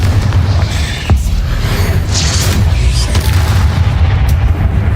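Bombarda and Confringo spells exploding in Hogwarts Legacy make heavy, rumbling booms that run continuously with several sharper bursts layered in, loud and close.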